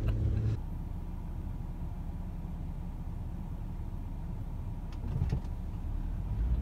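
A big minivan driving in Hong Kong, a steady low engine and road rumble heard from inside the cabin, with a couple of brief knocks and shifts partway through.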